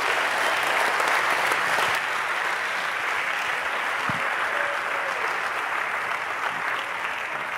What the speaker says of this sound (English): let's give a huge thanks and a round of applause for FX for an amazing fucking talk.